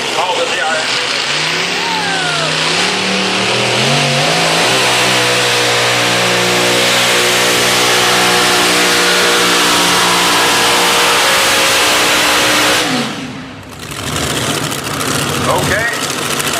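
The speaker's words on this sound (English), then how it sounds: "Lots of alcohol motors hanging on that tractor." The Iron Phoenix, a pulling tractor loaded with multiple alcohol engines, roars at a county fair tractor pull, a loud sustained multi-engine howl that climbs in pitch then holds, near, with a brief dip before resuming.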